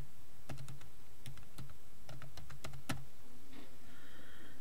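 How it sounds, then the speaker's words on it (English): Someone types a password on a computer keyboard: a few quick clusters of crisp, close key clicks with short pauses between them, then quiet. "you type in your username"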